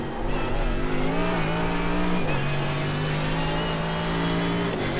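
Race car engine in the iRacing sim on the Nürburgring Nordschleife, revving loud and continuous with a steady engine tone that dips briefly on a shift, then climbs again under acceleration.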